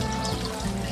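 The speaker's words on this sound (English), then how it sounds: "See, you got a waterfall." A small waterfall trickles into a garden pond, giving a soft, continuous splashing wash that stays steady and fairly quiet with no voices over it.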